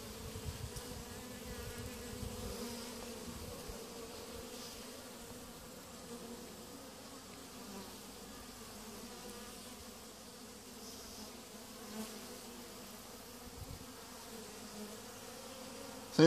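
Gentle honey bees hum steadily around an open hive, a continuous low drone with no voices, close and fairly soft throughout.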